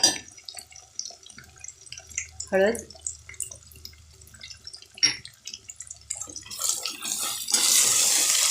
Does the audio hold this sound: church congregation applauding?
no